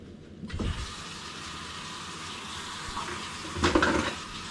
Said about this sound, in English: so wash the thing off and this pan